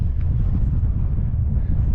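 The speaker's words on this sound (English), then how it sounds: "So glad there's a easterly wind for a change today." An easterly wind blows through a desert canyon, a steady low rumbling roar with gusty buffeting against the microphone throughout, with no other sounds.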